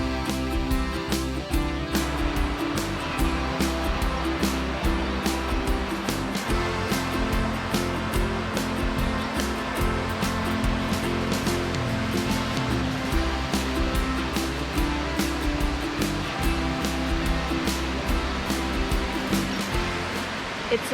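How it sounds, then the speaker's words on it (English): A tall, steep waterfall at Stone Mountain State Park, North Carolina, gives off a steady broadband rush that stays loud and constant throughout, with no talk. "It's a very tall waterfall."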